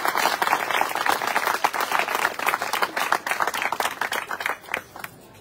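Applause from the audience at a Cateno De Luca political rally in Ispica, Sicily: dense, steady clapping from a crowd filling the space, loud and close, tapering slightly at the end.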